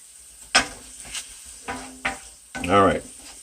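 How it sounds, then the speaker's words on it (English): Flounder and shrimp cakes browning in hot oil: a few separate bursts of crackling sizzle, with one longer, louder sizzle near the end, heard close with quiet gaps between them. "we're gonna fry these cakes in the oil a little bit just to brown them"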